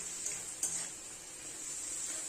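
Silkworms fry in a pan with a steady high sizzle and a couple of brief scraping stirs, close and fairly quiet, no voices.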